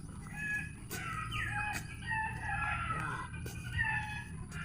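A rooster crows a few times amid scattered hen clucks and chirps, with occasional sharp knocks; moderately distant, no talking.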